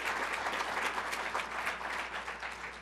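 An audience at a formal program claps in a steady, fairly distant patter of many hands, fading slightly toward the end.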